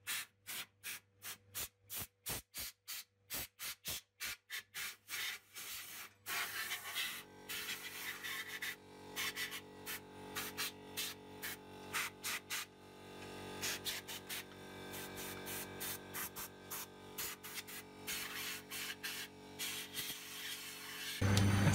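A White Knight Eco43A gas tumble dryer runs empty, its drum turning with a steady whooshing rumble of air drawn through and exhausted, broken at first by a series of rhythmic knocks, then settling into a continuous close, even drone.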